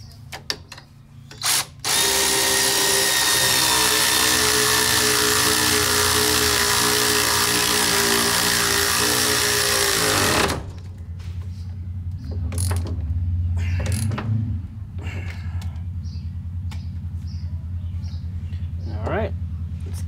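A brand new 14 mm Honda bolt on a car suspension is run in with a power tool in one loud continuous whirring burst of about eight seconds. Short clicks and mechanical clatter follow, with someone talking over the rest.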